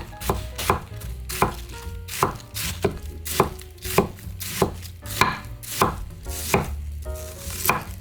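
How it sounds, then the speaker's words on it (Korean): A knife slicing cabbage thickly on a cutting board, with steady, evenly spaced chopping thuds repeating about twice per second, close and clear, with no talk. "그냥 칼로 써는 게 좋더라고요"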